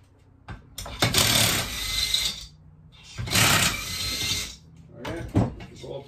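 Driver working the bottom muffler bolt of a Husqvarna 390 chainsaw, three bursts of buzzing mechanical rattling separated by short pauses, close and fairly loud.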